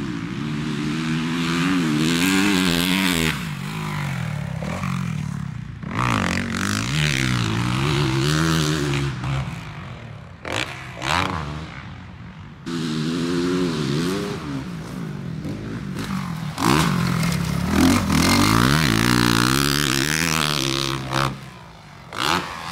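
Motocross motorcycles on a dirt track, heard as several rising and falling engine revs from bikes passing fairly close, with brief gaps between passes and a loud buzzy tone throughout.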